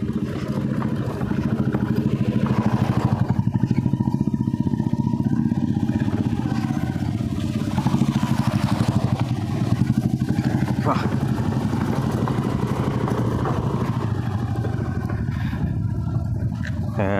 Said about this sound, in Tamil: பைக் நினைக்கிறேன் அப்படியே மெல்ல போக ஒரு இன்ஃபீல்டு வருது